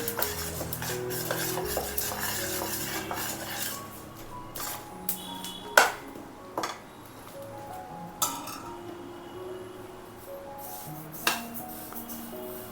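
White sesame seeds are dry-roasted on low heat in a pan and stirred, giving scattered clinks and scrapes of a utensil against the metal over a faint, quiet sizzle.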